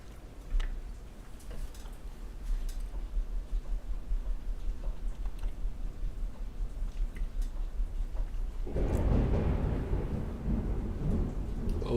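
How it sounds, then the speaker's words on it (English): Thunder rumbles low and steady through the first part, then a loud, close crash swells and rolls on heavily to the end, with no voices over it. "The thunder was like, wow."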